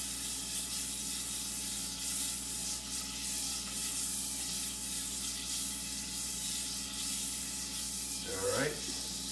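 Butter sizzles in a hot pan over medium-high heat, a steady, moderate hiss that continues throughout, with a brief scrape near the end.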